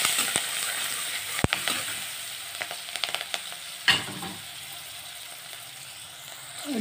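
Onions and turmeric frying in a pan for a vegetable curry, a steady sizzle broken by clinking and scraping as a spoon stirs them, close and with no talk.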